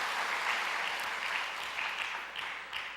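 A church congregation claps together in steady, moderately loud applause during a Sunday service, the clapping continuing evenly with no speech.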